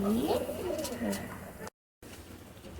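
Soft, throaty cooing of a pigeon nearby, a few rolling calls in quick succession, followed by a brief gap and quiet background.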